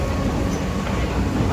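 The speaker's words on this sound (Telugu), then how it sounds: "అండర్ గ్రౌండ్ మెట్రో గాయ్స్, ఇది అండర్ గ్రౌండ్." An underground metro train in Bangkok rumbles steadily and loudly throughout, a dense, even roar from inside the moving carriage with faint voices underneath.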